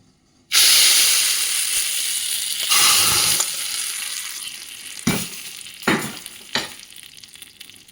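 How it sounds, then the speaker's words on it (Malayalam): Mustard seeds hit hot oil with a sudden loud sizzle that settles into a steady hiss, then a few sharp spluttering bursts near the end. "കടുക് വറുത്ത് നമ്മൾ പെട്ടെന്ന് അടയ്ക്കണം"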